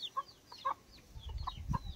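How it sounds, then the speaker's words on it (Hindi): Naked neck chickens kept around village homes cluck several times in short, soft, fairly distant calls over a low background rumble. "ये वही मुर्गियाँ, मुर्गी को शायद गला कट्टू मुर्गी बोलते हैं"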